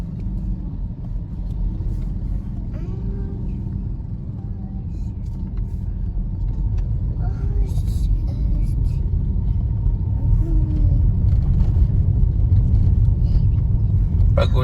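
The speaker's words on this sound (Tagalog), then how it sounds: "Busy ka dito. Traffic." Continuous traffic rumble from cars on a road near Bais by the Bay in Negros Oriental, with engines passing and a few faint horn-like tones over a steady low roar that swells slightly toward the end.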